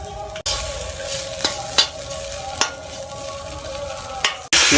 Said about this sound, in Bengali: পেঁয়াজগুলো ভাজা হয়ে গেছে, এবার দিয়ে দিচ্ছি শুটকি মাছগুলোকে।